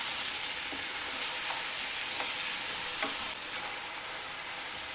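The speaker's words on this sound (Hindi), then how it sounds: "अब इसको अदरक लहसुन में भूनूंगी पेस्ट में।" Mutton fries in ginger garlic paste in a karahi, a steady close sizzle with occasional scraping stirs, no voices.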